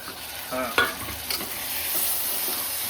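Onions sautéing in a pan for vegetable biryani, a steady sizzle running throughout with a few louder scrapes and clinks of a spoon stirring near the start, close and fairly loud, with no voices.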